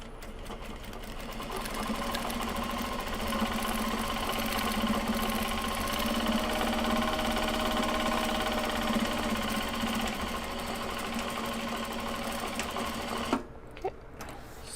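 A sewing machine stitches Japanese fabric for a gyoza bag, humming and whirring steadily for several seconds, close and continuous, then stops abruptly near the end, leaving a few faint clicks.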